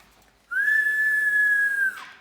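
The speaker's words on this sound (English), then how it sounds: "putting 2 fingers in his mouth, he let out the loudest whistle Jack had ever heard in his whole life" A single loud two-finger whistle rings out sharply, a steady piercing tone held for well over a second before cutting off, with nothing else around it.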